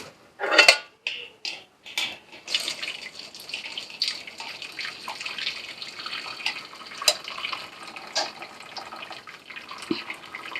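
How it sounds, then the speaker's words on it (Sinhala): Water from boiled egg noodles is poured off and drained in a kitchen, splashing and trickling in irregular bursts with a few clinks of a pot, close and moderately quiet. "දැන් අපි මේකේ වතුර ටික පෙරා ගන්න."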